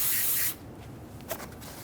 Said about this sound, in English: Use some brake parts cleaner and a clean rag.